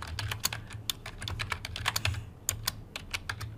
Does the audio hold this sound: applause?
no